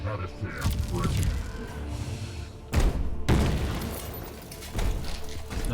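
A goo cannon in a Warhammer 40K video game fires with a heavy, booming thump. The sharp burst is followed by a second impact, set against busy game noise and intermittent voices.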